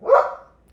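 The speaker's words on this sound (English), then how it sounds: "Now she barks." A single sharp bark from a female dog, loud and close, one burst that rises quickly and fades within under a second, with no talking.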